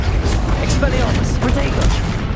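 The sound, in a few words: Expelliarmus spell cast, video game Hogwarts Legacy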